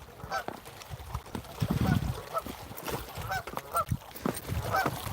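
Geese at a lake honk in scattered, fairly faint calls over a rough outdoor background with wind-like noise.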